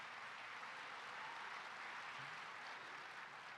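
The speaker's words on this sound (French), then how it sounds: "j'apprécie que vous applaudissiez" Audience applause at a national Catholic prayer breakfast, steady sustained clapping from a large crowd in a hall, soft and distant in level, without talk over it.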